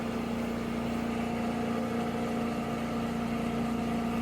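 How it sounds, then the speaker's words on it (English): A Cee 100CB spin coater hums through an initial centering spin, a steady, fairly quiet motor drone with a constant pitch and no talking. "it'll initially do a spin just to make sure you're centered"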